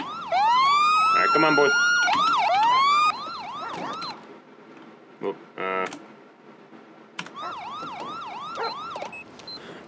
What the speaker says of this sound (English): Let's get those sirens turned off.